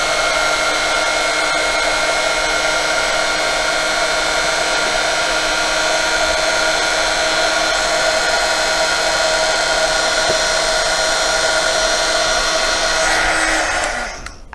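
A heat tool blows a steady, loud stream of hot air across craft card, a continuous whirring hiss that runs unbroken for about fourteen seconds before cutting off at the end.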